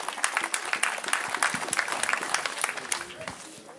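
A crowd applauds a tribal chief, the Krizowa tribe's leader, at a gathering in Djetewa, a lively burst of sharp, uneven claps close by, with voices faintly mixed in.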